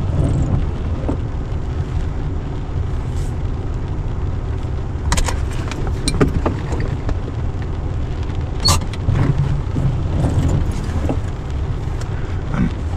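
A car driving back and forth at grouse camp: a steady low engine and road rumble fills the whole stretch, with occasional bumps and rattles from the cabin and a brief whoosh of wind, close and moderately loud.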